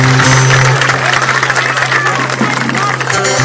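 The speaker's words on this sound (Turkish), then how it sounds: "O zaman en güzel alkışı onlar için alabilir miyim yoldaşlar?" Loud, sustained clapping from an audience at a summer school event held at a community house, steady for the whole stretch with a low electrical hum and some voices mixed in.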